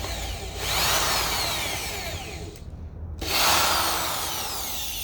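A power drill drives screws into wood while a DIY squat rack is built. It makes two close, loud whirring bursts, with a short pause between them.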